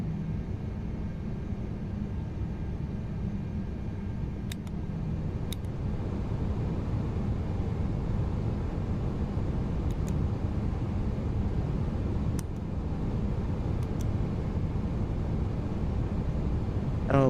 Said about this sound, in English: Looks like all the engines are started.